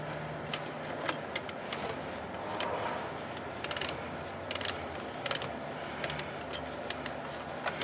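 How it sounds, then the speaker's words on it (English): A power ratchet working on a 1997 Honda Civic engine during a head gasket rebuild: repeated short ratcheting bursts and clicks close by, interspersed with metallic clinks and handling noise, no talking. "Let me get the power ratchet back in there."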